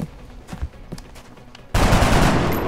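Gunfire in the video game X-Com Long War: a few sharp, scattered shots at first, then a sudden loud, dense burst of sustained automatic fire that carries on to the end.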